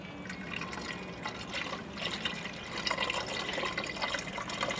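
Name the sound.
coolant being poured into a Duramax radiator system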